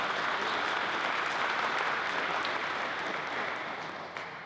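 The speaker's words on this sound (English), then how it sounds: "Can you give them one more round of applause?" A luncheon audience applauds a panel discussion, producing thick, continuous clapping from a room full of people that tapers off gently toward the end.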